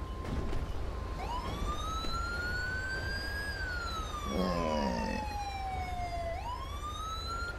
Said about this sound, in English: Don't need the sirens on now.